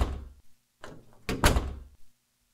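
Door sounds in The Crooked Man horror video game: several muffled thuds and rattling knocks like a door banging, the loudest in the middle, with no talk over them.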